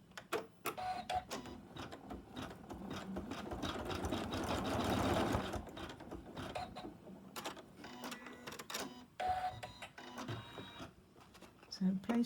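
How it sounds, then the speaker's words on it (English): An embroidery machine stitches a placement line, whirring and clattering steadily at close range, louder in the middle, with a few brief pauses and handling noises. "Then we go back to the machine, and now it's going to do a placement line for the little ribbon."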